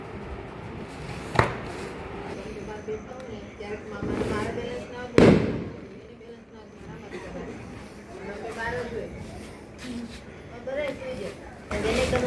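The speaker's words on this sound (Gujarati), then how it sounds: "તો ચાલો ફોડીએ સેવન શોટ" A seven-shot firework cake goes off at Diwali night, sharp bangs and crackles at irregular intervals, a couple of them loud and close, with people talking and chattering around it.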